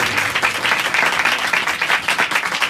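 Church congregation at a Hindi-Urdu sermon applauding in praise, dense continuous clapping filling the room at close range with no voices over it.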